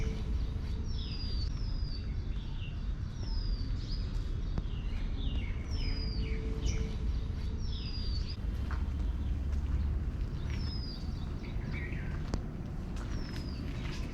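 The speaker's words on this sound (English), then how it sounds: "we can very clearly hear the chirping of the birds in here" Birds chirp in short, high whistled phrases repeated every few seconds over a steady low rumble of background noise, somewhat distant, at the Tughlaqabad fort ruins in Delhi.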